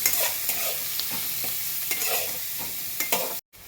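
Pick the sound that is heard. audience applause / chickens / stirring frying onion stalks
stirring frying onion stalks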